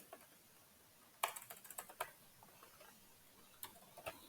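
A short burst of typing on a computer keyboard, made of a handful of soft, close clicks with brief pauses between them. It is quiet overall and no one speaks.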